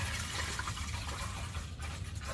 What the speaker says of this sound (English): You just pour